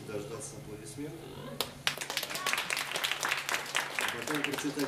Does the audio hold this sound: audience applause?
yes